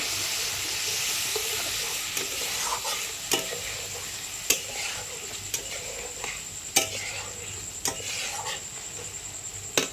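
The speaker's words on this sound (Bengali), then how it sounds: "এখানটায় দিয়ে দিচ্ছি একটু সামান্য জল দিয়ে ভালো করে মশলাটা আমি কষিয়ে নেব।" Spice masala fries and sizzles in a pan with a splash of water for a Bengali basa fish curry, under a steady hiss broken by repeated scraping clatters of stirring.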